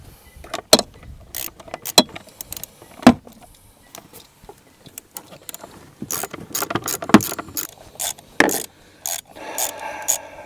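Mechanical rasping and clicking as bolts are tightened on a CF Moto CForce 600 ATV in a garage, with sharp irregular clicks and bursts spread through the clip and no talking.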